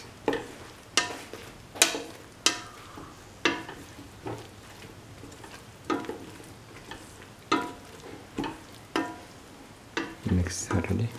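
A spoon scrapes and stirs scrambled egg, eggplant and rice with garam masala in a frying pan, giving roughly a dozen distinct scraping strokes in uneven rhythm over a continuous close sizzle.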